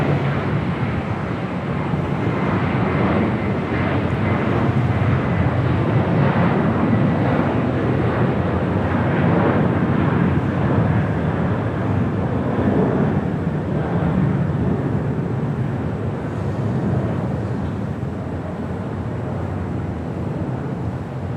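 An airliner takes off at Los Angeles International Airport with a broad, steady jet roar that fills the whole stretch and swells slightly before easing a little toward the end, with wind buffeting the microphone.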